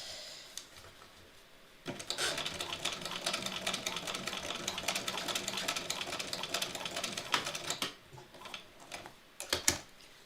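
A sewing machine top stitches in a rapid, even mechanical chatter, starting after a quiet pause, running for several seconds, then stopping and giving a few short bursts near and clear.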